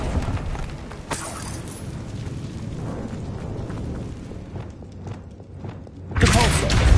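A summoning spell is cast in the Hogwarts Legacy game inside a decaying catacomb, giving a steady rumbling magical whoosh with thuddy impacts and a loud surge near the end, while a voice speaks over it.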